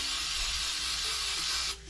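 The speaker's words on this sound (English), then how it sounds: "All right, so spray it on there good." Silicone lubricant sprayed from an aerosol can onto the rubber weather strip of a 1987 Jeep Wrangler, a steady close hiss lasting nearly two seconds before cutting off.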